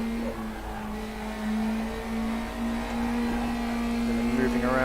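A race car engine in RaceRoom Racing Experience, a steady droning whine held at high revs that climbs in pitch toward the end, loud and continuous.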